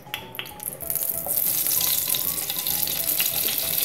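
Three tablespoons of ghee heat in a pan for Bengali carrot halwa, a bright crackling sizzle that swells after a quiet start and then holds steady and close, with a faint clink near the beginning.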